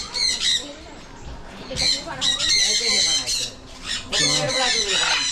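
Birds squawk loudly at a bird park in repeated harsh bursts, close and overlapping, with brief gaps between calls and some background voices.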